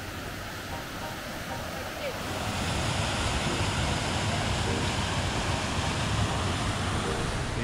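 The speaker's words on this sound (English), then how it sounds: "Check out this waterfall." A jungle waterfall near Paquera, Costa Rica, gives a steady, dense roar of falling water that swells louder after the first couple of seconds and then holds constant, with wind-like hiss and faint voices under it.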